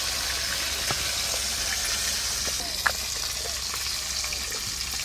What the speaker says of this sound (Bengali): এই মাছগুলো ভালো করে ভাজা হয়ে গেছে, তুলে নেব।